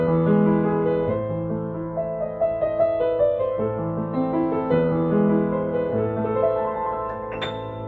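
A used Woodchester upright piano plays a flowing passage of sustained chords and melody with a warm tone, alone and close, ending on a brief high note.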